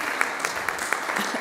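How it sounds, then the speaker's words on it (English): A church congregation claps in a round of applause after a sermon introduction, a dense steady patter of many hands filling the room, brief and moderately loud. "give Travis and Earth a round of applause."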